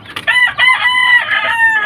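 A loud, close rooster crow, a strained harmonic call sustained for nearly two seconds.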